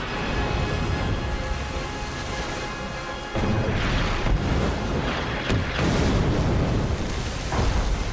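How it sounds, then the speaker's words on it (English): Battleship big guns firing salvo after salvo in a naval engagement against the Bismarck, heard as dense, continuous booming and crashing with sharp blasts, loud and close, with no voices. "Rodney and King George closed rapidly, firing salvo after salvo."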